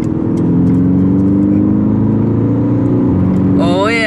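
A tuned 240 hp VW Golf 6 accelerates with a loud, close engine drone that holds strong and steady, then a rising whine sweeps up near the end.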